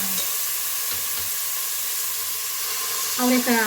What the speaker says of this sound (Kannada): ಈಗ ಈರುಳ್ಳಿ ಚೆನ್ನಾಗಿ ಎಣ್ಣೆಲಿ ಫ್ರೈ ಆಗಿದೆ.